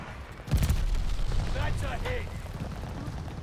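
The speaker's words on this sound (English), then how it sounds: "We got a guide bomb, guys." A guided bomb strikes in a Call of Duty game, giving a sudden heavy boom followed by a rumbling roll-off, with voices briefly heard over the tail.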